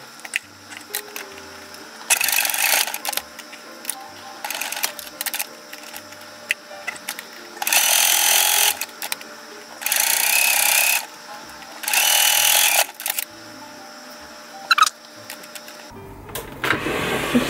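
A sewing machine stitches the inner fabric lining into a crocheted bag, running in several steady bursts of whirring stitching lasting one to two seconds each, separated by quiet pauses with light handling noises.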